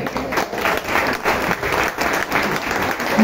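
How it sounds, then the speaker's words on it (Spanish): An audience applauds at an academic and cultural celebration at a history and social sciences documentation center: steady, dense clapping from a crowd that holds at an even level for a few seconds. "Un aplauso para ella."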